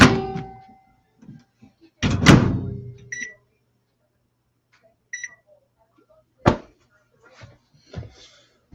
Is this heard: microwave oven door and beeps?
yes